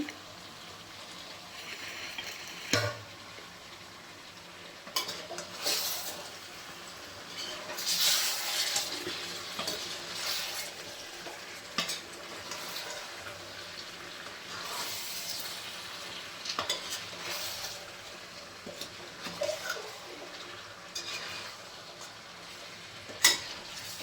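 Chicken fry being stirred and mixed in a pan, with soft scraping and clinking of a spoon against metal over a low, steady sizzle, occasional sharper knocks throughout.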